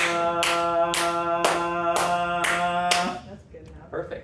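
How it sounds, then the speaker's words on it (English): Hands clap sharply into a microphone in a steady rhythm, six evenly spaced loud claps over a held tone, followed by a few softer, scattered sounds. "Claire will clap while you're doing that"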